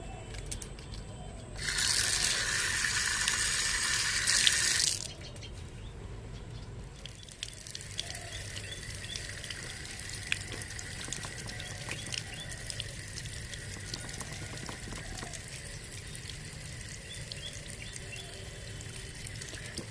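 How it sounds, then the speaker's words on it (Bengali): Tap water runs while fish is washed, a loud rushing pour for a few seconds that then stops, leaving quieter household clatter and faint dripping. "চলো মাছটা ধুয়ে নি"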